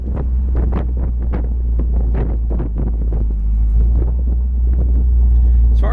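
A 1934 Ford street rod's engine, freshly out of winter storage with a lightly tuned carburetor, idles steadily up close with a loud, deep low rumble, wind buffeting the microphone throughout.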